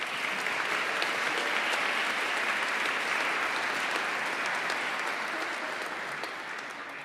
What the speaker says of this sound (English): Let us applaud the accomplishments of the graduating seniors of the Sustainable Resources Management program.